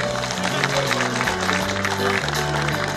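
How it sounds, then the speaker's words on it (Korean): An audience claps at a 2023 Icheon community harmony festival ceremony, a dense, steady wash of applause that runs the full length under loud background music. "다시 아, 한번 큰 박수 부탁드리겠습니다"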